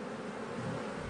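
Honeybees in southern Greenland give a soft, continuous buzzing hum, low and steady at close range with no other sounds over it.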